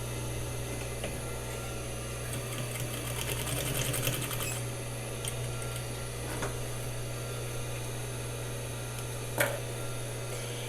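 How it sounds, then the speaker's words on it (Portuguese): A sewing machine backstitches elastic onto a slipper, its needle running in a close, steady mechanical chatter with a short faster burst early on and a few light clicks. "agora eu vou passar um retrocesso aqui no final para o elástico ficar preso no lugar"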